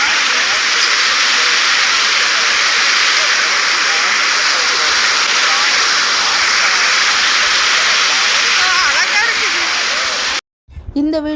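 The waterfall at Melmalayanur Durga Amman temple gives a loud, constant roaring rush of falling water that fills the whole scene, then cuts off abruptly near the end.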